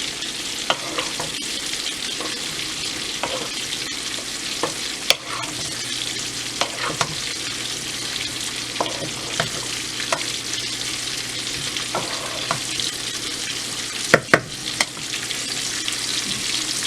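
Sauce being stirred in a hot frying pan of broccoli stir fry, a steady sizzle with repeated scraping strokes and clinks of the utensil against the pan, close and alone.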